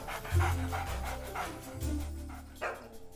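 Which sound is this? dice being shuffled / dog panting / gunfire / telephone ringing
dog panting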